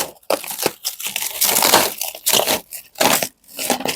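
Loud plastic wrapping being pulled, crinkled and torn in repeated bursts while unpacking a two-door particle-board wardrobe, close by, with short pauses between.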